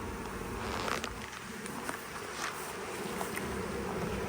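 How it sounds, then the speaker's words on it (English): Honey bees buzz around the open top of a Nuplas hive in a steady, faint outdoor hum, with a few soft knocks and clicks scattered through it. "So I don't squash the bees while they're sitting outside off the top of the hive"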